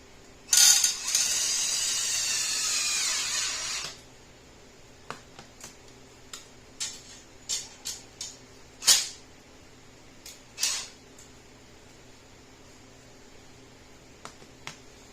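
A drill drives 1/2 inch self-tapping screws into a metal mining rig frame, one loud whirring burst of about three seconds, then scattered sharp ticks and clicks from the parts being handled nearby.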